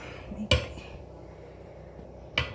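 Butter goes into a metal bowl with two sharp clinks roughly two seconds apart, over a soft kitchen background.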